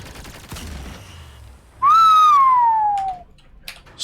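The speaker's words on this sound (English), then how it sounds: "Sorry for the whistle." A person whistles a single loud, clear note lasting over a second, gliding gently downward in pitch, close by against quiet background noise during a test-server gaming session.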